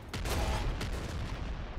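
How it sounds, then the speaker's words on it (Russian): Explosions in the video game Nuclear Throne come as a quick cluster of sharp bursts followed by a fading rumble, fairly loud and alone without speech. "Мне нравятся эти Биг Бэм. Биг Бэм взрывы."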